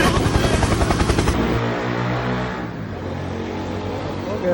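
Video game helicopter with a loud rotor chop and engine drone, briefly joined by bursts of gunfire, then fading into a steadier hum; a voice talks over it.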